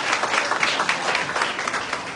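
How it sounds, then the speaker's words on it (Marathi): Audience applause at a Shiv Sena prize announcement for a fort-building and rangoli competition, brisk, dense clapping from many people, fairly close and steady for a couple of seconds. "जरा जोरदार टाळ्या"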